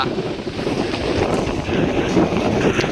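Strong wind buffets the microphone outdoors in a steady, loud, roaring rush with low rumbling gusts and no talk.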